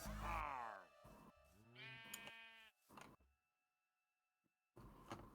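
A Minecraft sheep bleats twice in quick succession, loud and close, before the sound drops into near silence and a brief noise returns at the end.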